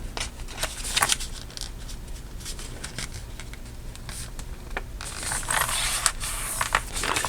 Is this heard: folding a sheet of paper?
yes